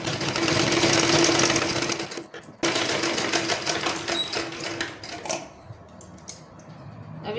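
A sewing machine stitches the back neck of an embroidered blouse, a loud, fast mechanical chatter running steadily close by. It pauses briefly, then resumes more unevenly and fades toward the end.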